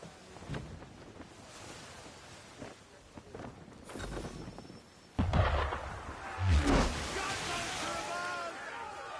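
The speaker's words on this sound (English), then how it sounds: "Why is he shooting at us?" Cannon fire aimed at a ship in Assassin's Creed III, heavy booms striking amid splashing water and wind, with a big blast midway followed by rushing sloshing; voices speak around it.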